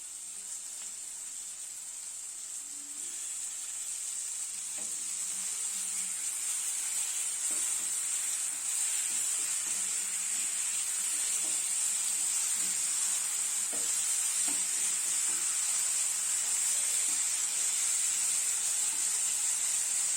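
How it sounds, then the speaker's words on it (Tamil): Chicken sizzles steadily as it fries in a pan with ginger garlic paste for a home-cooked Tamil chicken gravy, a bright continuous hiss with soft scraping stirs throughout. "இப்போ நம்ம கிளீன் பண்ணி வச்ச சிக்கனை இது கூட அப்படியே சேர்த்துப்போம்."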